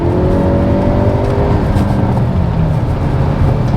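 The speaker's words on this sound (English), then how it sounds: "We'll put it into N mode, makes the exhaust louder" Hyundai i30 N Sedan in N mode with its louder exhaust, lapping Queensland Raceway: a loud, sustained engine drone with rising pitch under acceleration, close and continuous, with no voices.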